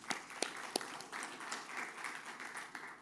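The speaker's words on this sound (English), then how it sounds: "Please give ourselves a round of applause at this moment." An audience at a rail industry forum gives a round of applause, with a few sharp early claps merging into soft, steady clapping from many hands.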